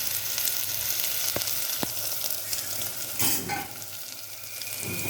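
Ginger garlic paste fries in a pan for sambar, with a constant soft sizzle, a couple of sharp clicks and a brief scraping stir midway, and no talking.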